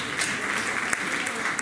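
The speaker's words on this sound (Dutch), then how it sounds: "Geef ze dus een geweldig warm applaus!" A crowd claps steadily and warmly, a dense wash of applause with no break.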